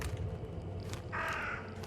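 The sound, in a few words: crows cawing in video game The Sinking City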